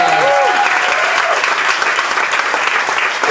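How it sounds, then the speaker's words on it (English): Loud, sustained applause from a large crowd at a comedy festival awards presentation, with constant clapping and some cheering voices mixed in throughout. "a round of applause for everyone involved in putting this festival on."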